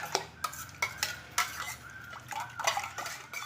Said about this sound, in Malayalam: ഞാൻ ഇവിടെ ജസ്റ്റ് നമ്മൾ കലക്കി എടുക്കുകയാണ് ചെയ്യുന്നത്